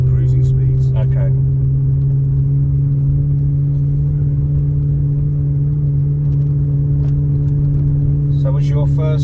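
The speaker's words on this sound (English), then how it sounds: "I'll get it up to sort of 70 miles an hour in top gear, and you can listen to what it's like" Manual Ferrari 360 Spider cruising at about 70 mph in top gear on a motorway, a steady droning engine hum under constant road noise, with brief bits of talk at the start and end.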